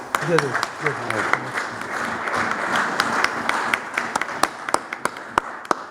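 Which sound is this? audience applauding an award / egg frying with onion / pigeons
audience applauding an award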